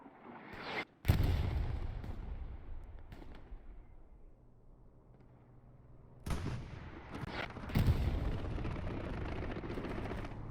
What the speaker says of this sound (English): But we see some artillery falling.